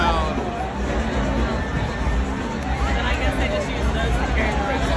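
A crowd gathered at a concert fills the air with steady, dense hubbub and overlapping chatter, a continuous wash of many voices at moderate distance with no single voice standing out.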